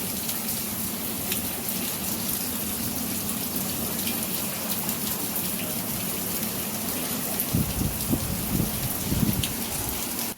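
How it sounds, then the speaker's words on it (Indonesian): Steady light rain falls in a continuous even hiss, with a brief patch of heavier low spattering near the end and no voices. "ini adem banget, diguyur hujan"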